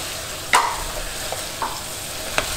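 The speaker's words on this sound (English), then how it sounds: "You bring out the best flavor by sauteing this way, versus you putting everything into the boiling water." Pumpkin and lemongrass sauté in a pan for tom yum hotpot broth, sizzling steadily with a few sharp stirring scrapes and clicks close up.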